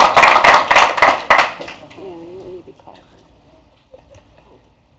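Audience clapping at a council meeting comes as a burst of close, dense applause that quickly fades away, followed by a single voice speaking.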